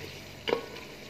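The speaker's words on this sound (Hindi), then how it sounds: "अब हम आलू को अच्छे से मसाले में भूनेंगे।" Potatoes frying in spice masala for kofta biryani, a faint low sizzle broken by one brief utensil scrape partway through.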